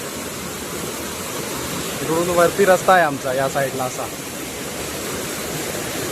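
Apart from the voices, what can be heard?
water rushing down through a village culvert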